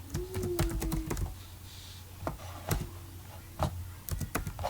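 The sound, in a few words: typing on a computer keyboard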